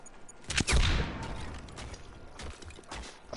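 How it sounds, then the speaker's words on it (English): A laser weapon fires in a multiplayer shooter video game, with a dense burst of rapid zapping shots early on, then a few softer, scattered shots trailing off. "Firing my lasers!"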